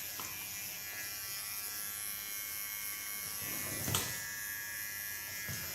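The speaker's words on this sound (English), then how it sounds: "This I do with my smallest clipper of Kiona." A small Kiona electric hair clipper buzzes steadily close by while trimming the neck contour line during a haircut, with a brief louder contact sound near the end and no talking.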